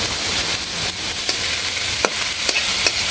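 Leafy greens (kharkon leaves) frying in an oil-filled pan in a village kitchen, a loud continuous sizzle with occasional sharp crackles and stirring clicks, no voices.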